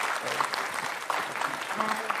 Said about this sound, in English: could we just give one more round of applause for all of our panelists up here today?